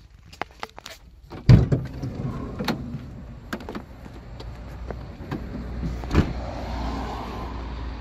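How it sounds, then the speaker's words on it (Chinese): A hard-top pop-up camper van's engine idles, heard from inside the cabin as a steady low rumble, with clicks and thumps of doors and movement over it and a louder knock near the start. "好，那么我们再来测一下发动机的声音啊。"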